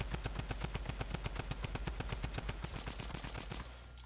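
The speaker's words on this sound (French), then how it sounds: "y a une balle qui est passée" Rapid automatic gunfire from a video game rattles in a fast, even burst of close, loud shots that cuts off abruptly near the end.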